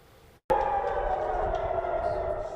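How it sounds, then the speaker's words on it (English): A loud, sustained wailing air raid siren in Israel during an Iranian missile attack, starting abruptly after a brief quiet moment and droning on steadily. "Air raid sirens blare as people in Israel took cover in bomb shelters Tuesday."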